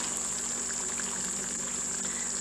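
Water poured from above into a bowl of cornflour and maida batter, a steady continuous trickle over constant background hiss and a faint hum.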